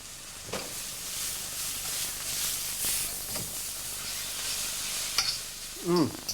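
Spinach and pork stir-frying in a hot pan, a steady close sizzle broken by occasional stirring scrapes, with a brief louder clatter near the end.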